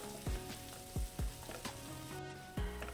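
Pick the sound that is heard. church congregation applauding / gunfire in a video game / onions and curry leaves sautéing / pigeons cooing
onions and curry leaves sautéing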